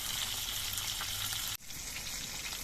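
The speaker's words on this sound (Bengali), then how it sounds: "এক পিঠ কিছুক্ষণ ভাজা হওয়ার পর মাছের পিসগুলো উল্টে দিতে হবে" Pieces of silver carp fry in hot oil in a pan, making a steady, dense sizzle that drops out for a moment before hissing on again.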